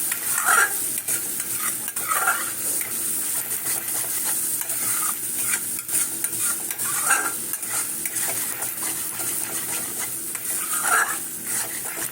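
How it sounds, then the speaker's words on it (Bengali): Spice masala sautéed and stirred in a pan for a yam kofta curry, a steady close sizzle with repeated scraping stirs of a utensil against the pan throughout, no talking. "সুন্দর করে কষিয়ে নেব"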